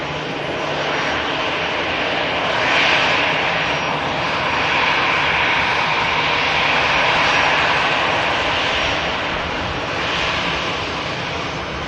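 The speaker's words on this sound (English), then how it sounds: "Another A320 with the Sharklets. Old generation engines with the new generation winglets there." An Airbus A320 with sharklet winglets and older-generation jet engines at Manchester Airport roars loudly and steadily nearby, the engine noise swelling slightly as it passes, with no talking.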